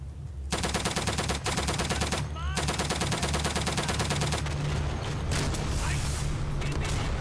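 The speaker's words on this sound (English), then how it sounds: "Yeah, they're shooting from the second floor." Gunfire in the Day of Infamy video game during multiplayer combat, a dense continuous rattle of rapid automatic shots with mechanical clatter, loud and unbroken throughout, a brief pause near the middle, ending in a rougher burst.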